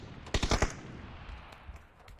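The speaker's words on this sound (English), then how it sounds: "Couple of shots fired" A quick burst of several gunshots in PUBG, loud and close in rapid succession, followed by a few fainter, more distant shots over a quiet background.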